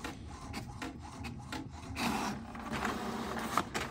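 HP Ink Tank GT5810/5820-series printer running a continuous test print, giving a steady mechanical whir with repeated rubbing, rasping feed strokes at close range, no voices.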